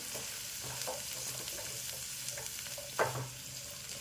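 Mixed vegetables sauté in oil over high heat for veg Kolhapuri, a steady close sizzle with soft clinks and scrapes of a spatula stirring, one sharper scrape near the end.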